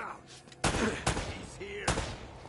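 Three sharp gunshots crack out in Uncharted: Drake's Fortune, spaced unevenly over a couple of seconds, loud and close against a quieter game backdrop.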